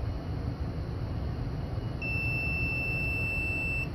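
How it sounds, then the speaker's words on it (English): A continuity tester beeps while its probes touch a main ground and the outer braided wire of an antenna lead on a Hubsan H501S drone, giving one steady, clear tone that begins halfway through and holds over a low background hum. "And it beeps, so there is signal there."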